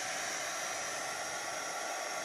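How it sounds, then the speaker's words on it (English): A heat gun blows hot air in a steady, even hiss that stays loud and unbroken throughout, with no voices. "Get out the old trusty heat gun and mess with this stuff a little bit here."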